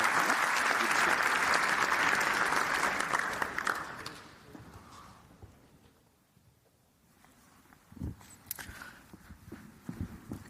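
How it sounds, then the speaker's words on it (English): Applause from the audience at a live NATO panel event, broad and steady for about four seconds before tapering off, followed by sparse claps and room noise. "I'd like to round of applause to the panelists."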